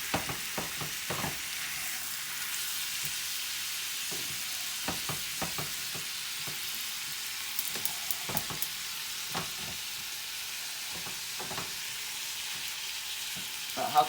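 80-20 ground beef frying in a pan, a soft steady sizzle broken by repeated clinks and scrapes of a utensil stirring the meat.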